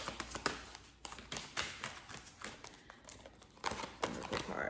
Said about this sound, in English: Let me pull this oracle card for you guys.